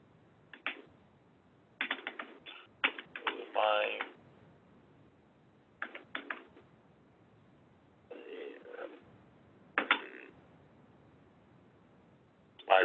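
Bursts of typing on a computer keyboard while entering data into a spreadsheet, clustered in short irregular runs of close, crisp key clicks separated by quiet pauses.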